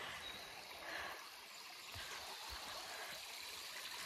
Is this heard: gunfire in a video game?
no